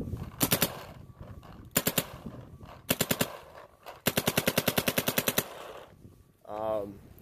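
Rapid bursts of sharp, snappy shots from an Empire Axe paintball gun in Millennium firing mode, in quick strings fired close by, with a voice briefly heard near the end.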